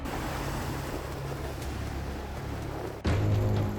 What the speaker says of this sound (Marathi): प्रत्येक भरतीसोबत उसळणाऱ्या प्रचंड लाटा आता थेट घरांच्या उंबरठ्यापर्यंत धडका देत आहेत